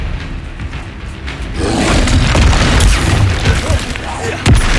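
A Confringo blasting spell in Hogwarts Legacy goes off as a booming, roaring explosion that swells after a quieter start and rumbles on, with a sharp burst near the end.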